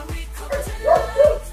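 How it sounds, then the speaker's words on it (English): An agitated house dog barks repeatedly at close range, several loud, clipped barks in quick succession with a couple of higher, strained yelps. "That's my dog going crazy."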